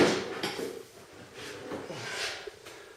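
The metal side panels of a Vespa P Range scooter are lifted off, making a few scraping, clunking knocks and sliding rubs at close range with no talk.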